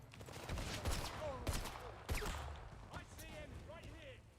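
Video game gunfire comes in sharp, scattered shots and short bursts at moderate loudness, mixed with whistling game effects and a player's voice talking over it.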